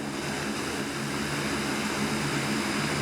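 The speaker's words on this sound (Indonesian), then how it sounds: "Pesawat Super Hercules A1339 mendarat di Bandara Internasional Minangkabau, Padang." Indonesian Air Force Super Hercules A-1339 military transport landing at Minangkabau International Airport in Padang, a steady, fairly faint roar of turboprop engines droning evenly with no break.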